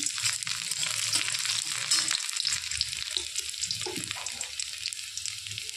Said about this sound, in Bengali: তেল গরম হয়ে গেছে, দিচ্ছি রসুন